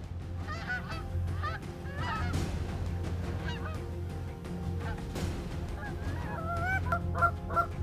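Migrating geese honk repeatedly in overlapping calls over Chesapeake Bay, a steady chorus of nasal honks carrying over a low background rumble.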